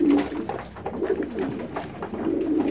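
Pigeons coo repeatedly at close range, soft rolling throaty calls overlapping in a loose rhythm, with several birds seeming to call together against a faint background.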